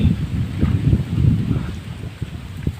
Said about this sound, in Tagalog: Malakas ng hangin eh.